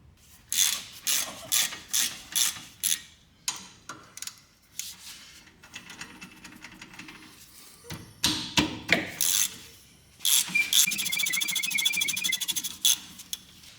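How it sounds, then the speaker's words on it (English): A ratchet clicks in repeated rhythmic bursts while removing the brake caliper slide pins on a 1977 Pontiac Grand Safari station wagon, close and loud, ending in a longer run of rapid ratcheting. "We're gonna take the two slide pins out here, pop the caliper off"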